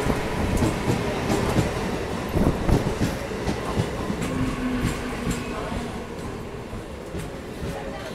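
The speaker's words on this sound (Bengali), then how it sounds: "ট্রেন ছেড়ে দিল বহরমপুর স্টেশন।" The Lalgola to Sealdah train 03198 pulls out of Berhampore station, its heavy rail rumble close and continuous, with rhythmic wheel clatter over the tracks and a brief higher squeal partway through.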